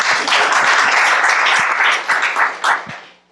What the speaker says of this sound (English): We can also clap you.